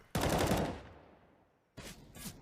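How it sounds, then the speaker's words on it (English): Desert Eagle pistol headshot fired through a wall in a CS:GO match, a sharp loud gunshot with a decaying tail, followed by a second burst of game gunfire. "There's a headshot through the wall with the Deagle."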